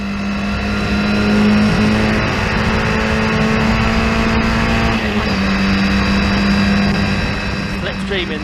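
Historic Formula Ford race cars lapping Donington Park, a loud steady engine drone with sustained high revs and shifting pitch as cars pass, under continuous race commentary.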